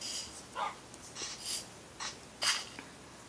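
A pet dog in the Minecraft Dragon Block C mod gives a few short snorts, huffs and soft whimpering breaths, spaced irregularly and fairly quiet against faint background hiss.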